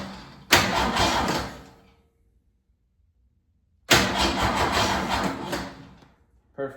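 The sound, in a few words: engine cranking and starting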